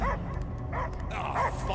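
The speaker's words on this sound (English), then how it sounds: "I hear only barking." A dog in Marvel's Guardians of the Galaxy video game gives three short, close barks and yips in a quick, uneven rhythm over a low ambient hum.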